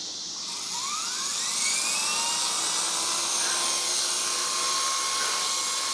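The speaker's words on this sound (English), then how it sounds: "here's some video of my new WL Toys V912 fixed pitch helicopter" A WL Toys V912 fixed-pitch RC helicopter runs with a loud, high-pitched electric whine from its rotor and motor, steady throughout and rising slightly in pitch as it spins up, with no voices.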